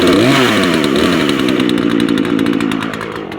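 A Poland chainsaw, started up to cut firewood, revs up loud and close, then settles into a rough, sputtering idle with a rapid uneven firing pulse.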